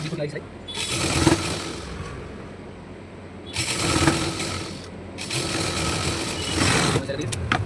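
Domestic sewing machine running in repeated bursts as it joins the hem cuff onto a farshi salwar, close and fairly loud, with pauses between runs.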